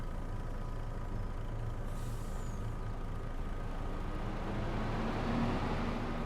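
A truck being filled in Farming Simulator 25 on the Riverbend Springs map gives a loud, steady rumbling hiss that runs unbroken and swells slightly toward the end.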